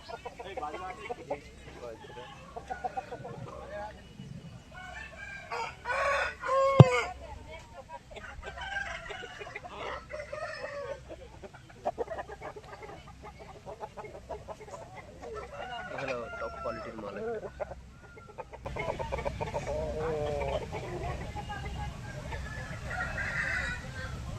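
Chickens cluck and a rooster crows among the poultry stalls of a busy village market, the calls scattered and moderately close beneath steady talking and crowd noise.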